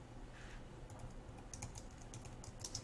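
Quiet, fast keystrokes tap out on a computer keyboard in an uneven run of light clicks over a faint background hiss.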